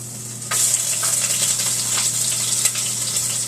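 Sauce-dipped seitan pieces dropped into a hot pan burst into a loud, steady sizzle that holds evenly from the first half second on, with faint crackles and spatters over a low kitchen hum.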